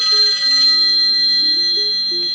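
A phone rings inside a vehicle during a cabin upgrade, its bright steady electronic tone sustained over a low, shifting melodic pattern, fairly loud and close with no talk.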